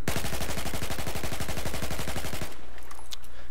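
Sustained rapid automatic gunfire from a weapon in the video game Battlefield 4, a loud, fast, evenly spaced burst of shots lasting over two seconds, then cutting off abruptly into quiet with faint game sounds.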